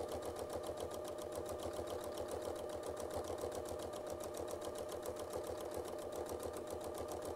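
A sewing machine running steadily along a quilt seam, its needle chattering in a fast, even rhythm at low volume, without any talking.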